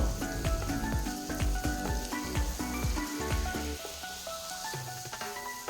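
Crushed shallots, green chillies and garlic sautéing in hot oil, a crackling sizzle cut by repeated clinking spatula strokes against the pan, close and fairly loud throughout.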